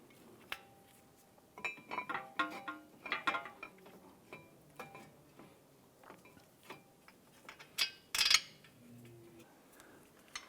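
Metal parts and bolts clink and tick as a brake caliper bracket is fitted onto a 2012-2017 Toyota Camry front hub, with irregular close taps, scrapes and a sharp metallic clatter near the end, no talking.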